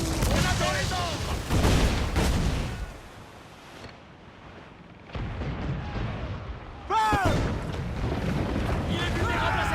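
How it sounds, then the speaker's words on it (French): A naval cannon broadside fires in Assassin's Creed IV: a cluster of heavy, rumbling booms at the start, a quieter lull, then another sharp volley. Shouting voices sound over the gunfire. "Une autre bordée et on coule!"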